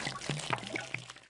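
Juice pours from a glass in a PBS Kids science game, a short cartoonish splashing burst of quick liquid blips and drips, brief and clear.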